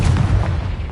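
A short, loud Confringo fire-spell explosion in Hogwarts Legacy: one close, heavy boom with a low rumbling body that fills the brief moment.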